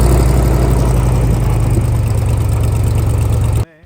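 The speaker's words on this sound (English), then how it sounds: "This bad boy is a V8 hoverboat" A loud, steady V8 hoverboat engine idles with a deep rumbling drone that holds evenly for several seconds, then cuts off abruptly.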